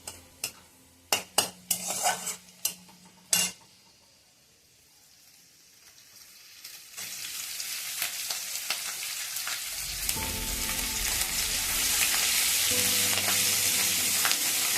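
Julienned ginger and chopped green chilies fry in a pan for a tadka with no onion or garlic, starting with a few sharp clinks and taps, then building into a steady, loud sizzle that runs to the end.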